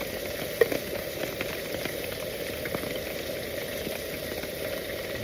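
Food simmers in a pot on a camp stove in the woods, a steady soft bubbling and faint sizzle running throughout with one small pop near the start.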